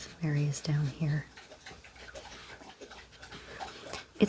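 A puppy pants and whimpers close by, giving a few short high whines at the start, then quick soft breathing and small shuffling sounds.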